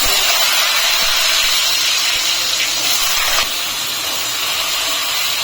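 Potatoes dropped into hot mustard oil tempered with dried red chilli, black cumin and asafoetida, giving a loud, steady, close hiss of frying that fades slightly near the end.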